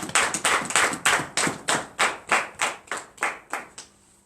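A congregation at a morning prayer service in Benin claps hands in acclamation, about a dozen crisp, loud claps in unison at a steady, even rhythm before stopping.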